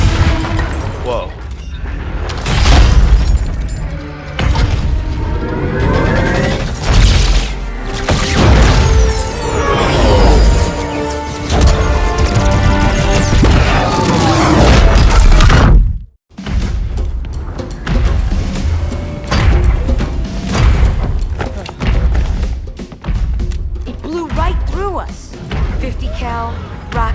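Rocket explosions in a Halo 2 Anniversary cutscene: loud, dense booms and crashes pile up under a heavy orchestral-style mix, cut by a brief silence midway before the chaotic blasts resume.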